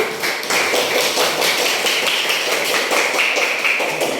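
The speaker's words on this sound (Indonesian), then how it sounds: "tepuk tangan untuk kelompok 1" A group applauds together in a classroom, dense steady clapping filling the whole stretch at an even loudness, with no voices over it.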